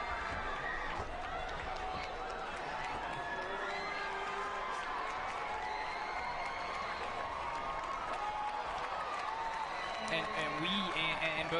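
A high school student body cheers in celebration after a boys soccer state championship, a dense, steady roar of shouts and whoops with clapping that swells near the end, with a commentator talking over it.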